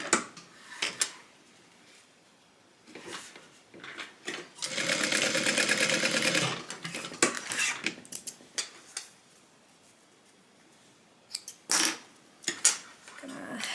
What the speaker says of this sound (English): Fold that in half, sew it down.